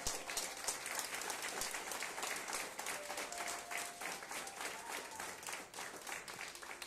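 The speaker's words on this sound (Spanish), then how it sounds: "Dale ese aplauso al Rey si quieres dárselo." Steady applause from a church congregation fills the room, a thick continuous patter of many clapping hands with a faint sustained voice or tone beneath it.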